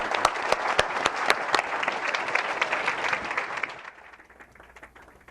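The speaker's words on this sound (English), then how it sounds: "So a round of applause for our panelists and for all of you" Audience applause for the panelists at the close of a panel discussion on Islamophobia, dense sharp clapping that holds steady and then thins out into scattered claps.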